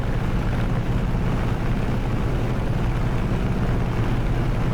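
A FlyingIron Simulations Redhill aircraft engine drones steadily with the canopy open in a flight simulator, a loud continuous low rumble with rushing wind noise and no pauses.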